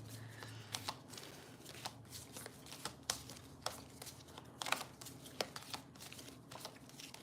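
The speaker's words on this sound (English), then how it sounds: "So I'm just gonna go ahead and start shuffling while you guys tune in." Cards being shuffled close up, a run of quick crisp riffles and soft snaps repeating at an uneven pace, with no talking.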